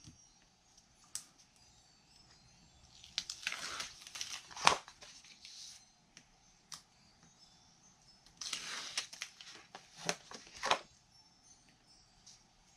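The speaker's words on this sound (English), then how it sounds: "And then I'll peel away the tape backer from the liner." Adhesive tape backer peeled from a craft notebook liner, giving two separate rasping, crinkly bursts of paper and plastic separating, close and quiet, with soft handling rustles between them.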